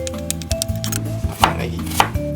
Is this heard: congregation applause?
no